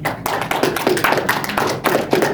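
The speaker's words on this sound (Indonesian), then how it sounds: "tepuk tangan dulu buat Amar." Students in a classroom clap for a classmate, a quick run of sharp, close hand claps in an uneven rhythm, loud and without talk.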